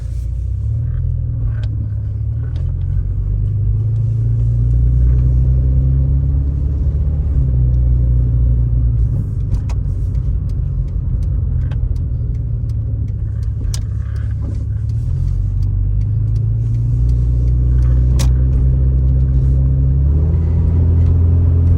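A 1996 Volkswagen MKIII car on a test drive gives off a loud, steady engine and road rumble heard from inside, with faint rattles and small bumps throughout.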